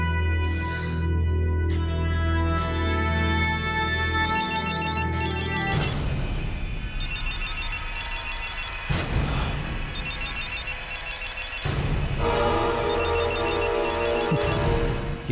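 A telephone ringtone plays loudly in a Tamil TV serial, an electronic melodic ring tone that repeats in bursts for the full stretch, close and alone without talk.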